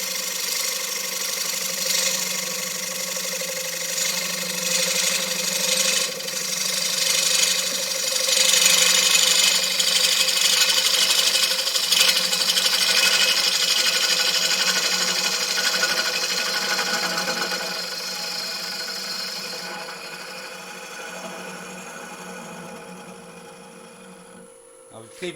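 A wood lathe tool cuts into a spinning wood piece with a steady, whining buzz that swells and fades over about twenty-five seconds, motor drone running underneath and ending abruptly.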